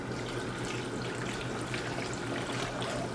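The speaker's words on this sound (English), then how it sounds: "They say to put enough water to make it come together." Water poured into a blender holding peeled yuca pieces, a continuous trickling, splashing pour heard up close and alone for a few seconds.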